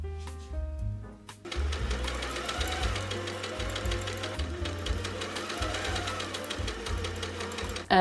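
A sewing machine runs steadily, stitching the silk satin bodice pieces of a homemade wedding dress, its motor whirring continuously up close after a brief start.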